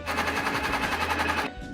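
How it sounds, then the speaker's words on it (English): A kitchen blender blends ginger, coriander seeds and water with a loud, steady motorized whir that holds for about a second and a half and then abruptly drops away. "And now I'm going to blend."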